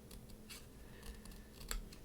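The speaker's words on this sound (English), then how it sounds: "I use smaller scissors because it gives me a little bit more control" Small scissors snipping along the edges of paper pieces for a miniature craft board, a few quiet crisp cuts spread across a couple of seconds with a sharper click near the end, soft and close with no talking.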